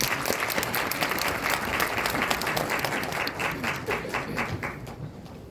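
A large audience at a university graduation ceremony claps in a sustained, dense burst that holds strong and then gradually thins and fades near the end.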